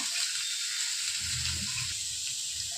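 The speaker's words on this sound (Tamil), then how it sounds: "கொஞ்சம் கடுகு போட்டுக்கிறேன் ரெண்டு காஞ்ச மிளகாய் போட்டுக்கிறேன் இப்போ கேரட் எடுத்து போட்டுக்கிறேங்க" Carrots dropped into hot oil already crackling with mustard seeds and dried red chillies for a poriyal set off a steady close sizzle, with a low, bubbling surge of frying that swells partway through and carries on.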